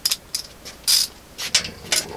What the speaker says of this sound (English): we will then grab a regular ratchet and we will sort of snug them up here